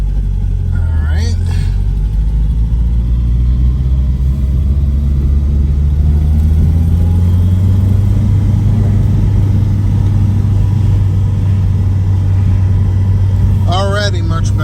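A Starquest car's turbocharged engine runs steadily while driving after a repair, a continuous loud low rumble and drone throughout with slight rises in pitch, and brief squeaky sounds near the start and end.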